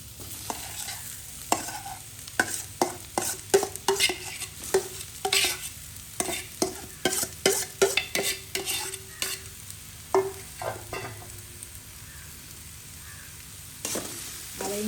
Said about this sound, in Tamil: இப்போ நாங்கள் எடுத்து வச்சிருக்கிற உருளைக்கிழங்கையும் இதுக்கு போட்டுக்கொள்வோம்